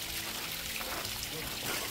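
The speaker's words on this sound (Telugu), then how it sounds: "ఈ గృహలో కొన్ని ప్లేసెస్లో మంచిగా వాటర్ ఫాల్ చాలా బాగుంది చూసేదానికి." A steady pour and trickle of falling water echoes through Painshill Park's Crystal Cave, a constant, fairly quiet splashing wash from a small indoor cascade without clear breaks.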